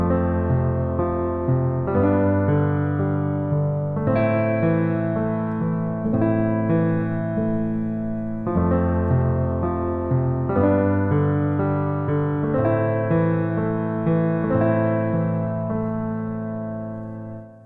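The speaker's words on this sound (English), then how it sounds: "take basic piano chords like these and turn them into something that sounds like this?" Piano playing a flowing pattern built from simple chords, with steady rolling arpeggios and sustained bass notes repeating through several bars, close and full, with no voices.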